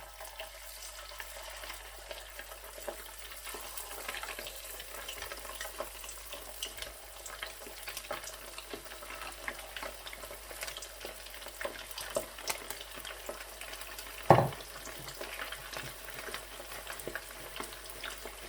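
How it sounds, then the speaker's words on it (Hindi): Chicken pieces fry in hot oil for chicken manchurian, a steady close sizzle and crackle running throughout with one brief louder clink midway; no one speaks. "बिल्कुल इसी तरीके से मैं दोबारा से चिकन जो है फ्राई करके बाहर निकाल लूँगा।"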